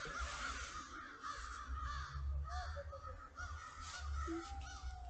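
Several crows caw repeatedly outdoors, harsh calls overlapping at moderate distance over a steady low rumble of background noise, no voices present.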